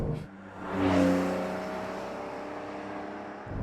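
A 2022 Porsche 911 GTS with a twin-turbo engine accelerates hard, its engine note rising and surging loudly and nearby before settling into a sustained drone, heard alone.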